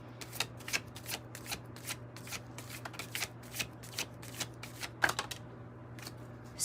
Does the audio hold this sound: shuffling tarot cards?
yes